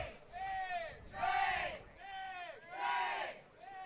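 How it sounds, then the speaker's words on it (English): Two cheering sections at a summer collegiate baseball championship game shout back and forth in alternating bursts, each swell of whoops and cries rising and fading in a call-and-response rhythm, distant and crowd-wide. "Both cheering sections looking to support their"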